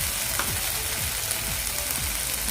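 Masala spices frying in oil on a tawa for egg masala, giving a steady close sizzle with soft bubbling crackle and faint scraping, no voices.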